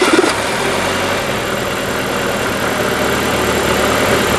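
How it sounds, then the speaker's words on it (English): A car engine idles steadily throughout, a loud, continuous low rumble with an even hum and no revving, heard alone at close range while the engine runs during a vacuum leak check. "With the car engine running,"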